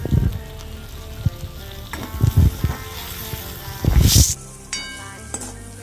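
Tomato frying in a pan sizzles in uneven bursts with stirring, loudest near the end, then cuts off and a quieter background follows. No voice is heard.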